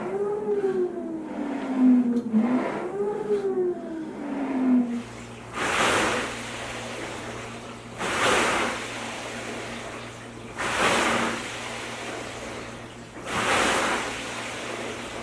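An Ergatta water rowing machine pulls through its strokes, each one a soft whooshing slosh of water in the tank at a slow, even rhythm, about every two and a half seconds, with a faint steady hum underneath.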